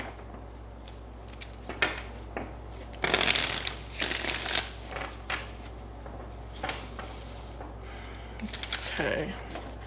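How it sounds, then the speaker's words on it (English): Tarot cards shuffled close up in several bursts of crisp riffling and shuffling over about ten seconds, with brief pauses between and some light handling noise. "Okay, one more shuffle."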